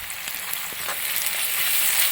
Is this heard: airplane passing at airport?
no